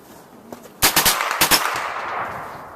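Gunfire from a firearm on a shooting range, a quick burst of several sharp reports followed by a second short cluster, fairly distant and echoing after a faint click.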